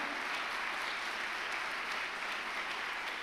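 Church congregation at a communion service applauding in praise, a steady wash of many hands clapping, moderately distant and even throughout, with no voices standing out.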